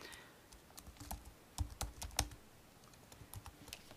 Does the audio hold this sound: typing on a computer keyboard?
yes